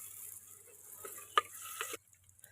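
Mustard seeds crackle and sizzle in hot oil for village-style sambar, a fizzing hiss with one sharp pop and light stirring, cutting off abruptly near the end.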